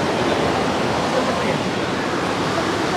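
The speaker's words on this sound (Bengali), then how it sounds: "ঠিক এইভাবেই কিন্তু এই জল এইভাবেই পড়তে থাকে।" Hot spring water at Manikaran pours down steadily in a loud, continuous broadband rush that masks everything else, close and unbroken throughout.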